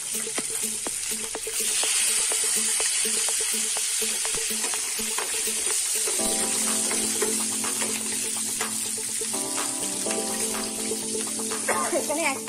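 Tomato going into a pan of frying ginger paste and cumin-chilli paste gives a loud, dense sizzle. The sizzle swells into a sharper crackle partway through and carries on steadily, with faint background voices underneath.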